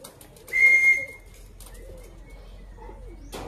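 Racing pigeons arrive at a loft, with a brief burst of wing flapping and coos, soft throaty calls repeating faintly in a quiet space.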